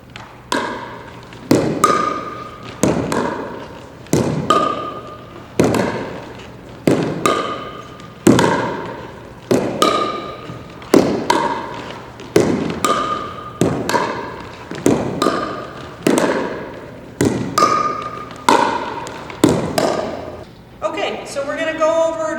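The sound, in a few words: pickleball paddles hitting the ball back and forth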